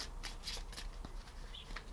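Playing cards for a pick-a-card reading are shuffled up close, with repeated crisp riffling bursts over two seconds and no voice.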